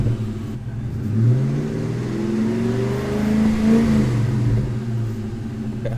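Ford Cobra engine revving while stationary, fitted with a WOT box two-step: a steady low idle rumble swells into several rising and falling revs, loud and close, with no speech.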